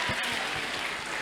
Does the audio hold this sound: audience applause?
yes